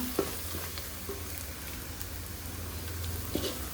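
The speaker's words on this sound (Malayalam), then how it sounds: "ആ മുളക് പൊടിയൊക്കെ പച്ച മണം മാറാൻ വേണ്ടിയിട്ട് നല്ലതായിട്ടൊന്ന് മൂത്ത്" Chili powder and spices fry in oil in a pan for a chicken curry, a soft, continuous sizzle with occasional light stirring clicks and no voices.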